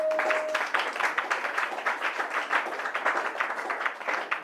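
Crowd applause at a French-language church sermon on Matthew 4, a dense, steady wash of many hands clapping that holds for several seconds with slight swells, with no speech over it.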